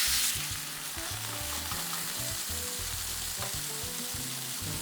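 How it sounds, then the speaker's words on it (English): Brandy hits a hot pan during steak au poivre, bursting into a loud, steady sizzle and frying crackle that holds throughout, with faint stirring and scraping near the pan. "Now, into the pan with our brandy."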